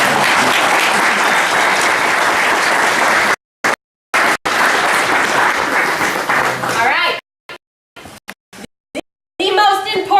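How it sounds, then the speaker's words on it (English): A crowd at an event in Alaska bursts into loud, sustained applause that breaks off in short gaps and picks up again in bursts, ending with a voice speaking. "so let's give them a round of applause"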